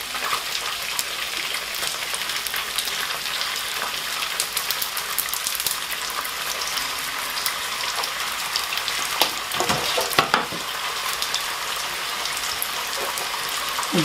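Chopped onion sautéing in a pan with no salt or pepper added, giving a steady, even crackling sizzle throughout, with a brief louder clatter partway through.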